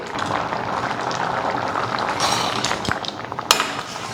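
Jaggery mixture for a ripe papaya pachadi bubbles and boils in a pan with a continuous close bubbling hiss and a couple of faint clinks of a utensil near the end.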